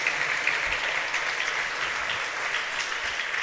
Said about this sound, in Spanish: Démosle palmas al Rey de Reyes.